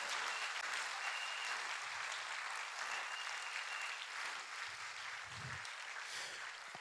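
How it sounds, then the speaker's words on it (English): Congregation clapping throughout an Easter Sunday church service, a steady dense wash of many hands that stays loud and even from start to finish, with no voices standing out. "Oh, you are not clapping like people who are celebrating."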